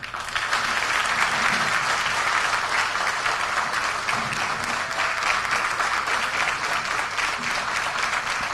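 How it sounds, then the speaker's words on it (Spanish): A crowd applauds after a president's speech with sustained, even clapping from a large audience. It is continuous and full, with no talking over it and no letup across the whole stretch. "Con este aplauso, señoras y señores, agradecemos las palabras del excelentísimo señor."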